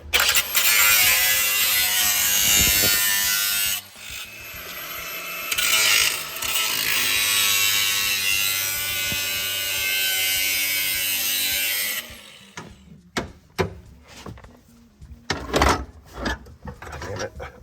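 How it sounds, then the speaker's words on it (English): A power tool grinds steadily for about twelve seconds, cutting an access hole through the body above the fuel pump of a '90s Acura. The loud, harsh cutting then breaks into short, uneven bursts. "we decided we're just gonna hack a hole in where Honda should have put a hole anyway"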